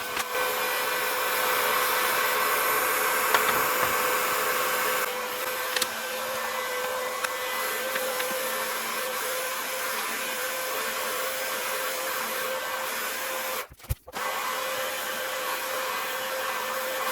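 A heat gun blows steadily as heat-shrink wrap is shrunk onto an 84-volt lithium-ion e-bike battery pack. The close, continuous whirring hiss cuts out briefly near the end and then resumes.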